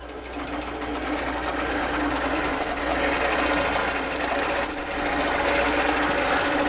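A sewing machine runs continuously while basting a quilt, a fast, steady mechanical stitching chatter at close range that holds at an even level throughout, with no voice.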